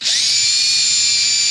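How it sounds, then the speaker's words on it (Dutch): A power drill with a 3.5 mm bit bores a hole while making a loud, steady, high-pitched whine that holds an even tone throughout. "mm boor ga ik nu hier een gaatje boren"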